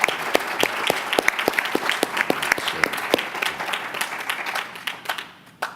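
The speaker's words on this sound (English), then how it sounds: "Let's give them one more round of applause." A seated audience at a public program applauds a panel discussion, loud steady clapping with distinct sharp claps standing out, then tapering off near the end.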